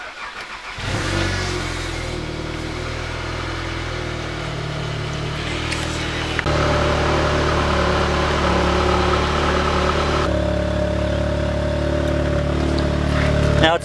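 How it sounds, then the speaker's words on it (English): An Audi S3 idles steadily after a cold start, a close, continuous engine drone with a slight step up in level partway through and brief voices faintly underneath. "Let's get a cold start of the S3"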